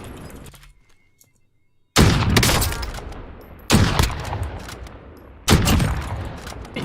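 An LW3 sniper rifle firing in Call of Duty Warzone: three loud, sharp shots a couple of seconds apart, each with a long booming tail, after a quieter opening stretch.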